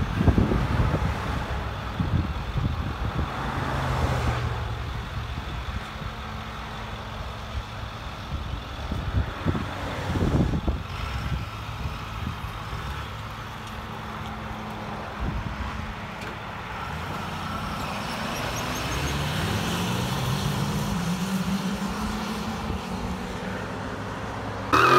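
A 2008 Ford F-250 with a 6.4L diesel and a muffler-deleted exhaust rumbles steadily and loudly up close, with a few rising revs toward the end and no talking.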